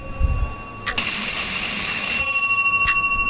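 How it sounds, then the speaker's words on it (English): A quiz-game buzzer bell for a classroom multiplication game rings out loud and sustained for over a second, held down, with a brief tap before it and a faint trailing ring after. "Ring and hold the bell."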